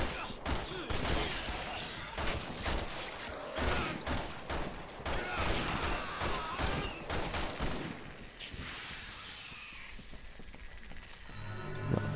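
Rapid, dense gunfire in Resident Evil 6 rattles almost continuously for several seconds, then thins into scattered shots and fading game ambience.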